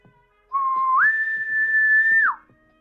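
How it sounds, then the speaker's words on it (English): A human whistled dog recall tune taken from Lovecraft Country, one clear loud whistle that rises from a lower note to a long held higher pitch before dropping away, with faint ticks in the background. "So this is his recall whistle. It's from Lovecraft Country when they had to recall the monsters back to him."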